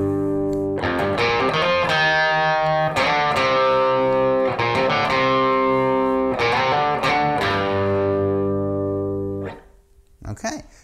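Electric guitar plays the main riff of a song: slow, heavy, distorted repeating phrases with ringing sustained notes, loud and close, fading out near the end.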